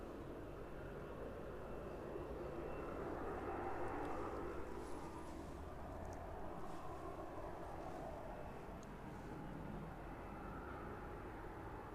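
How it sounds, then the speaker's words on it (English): A fixed-wing airliner at East Midlands Airport moves off after the tug detaches, heading to taxi: a steady distant engine rumble and whine on the apron, with no talk. "There it goes, moving away, so that one should be commencing its taxi anytime soon."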